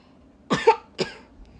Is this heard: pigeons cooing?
no